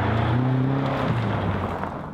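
A BMW M5 V8 engine cruises in a high gear, giving off a steady, low, sonorous drone with a smooth whir of road and cabin noise and no voices.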